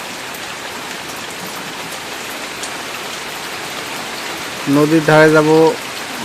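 Light drizzling rain gives a steady soft hiss throughout, and a voice speaks briefly near the end.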